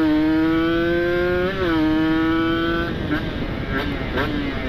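A Kawasaki Ninja RR two-stroke motorcycle with a PWK30 carburetor holds a steady high-pitched engine whine, dips briefly and climbs again before easing off into road and wind rumble during a test ride on a public road.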